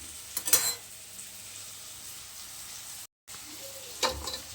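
Green moong dal curry with garlic, Kolhapuri style, being stirred in a pan: close sizzling bursts with scraping at the start and again near the end, and a quieter simmering hiss in between.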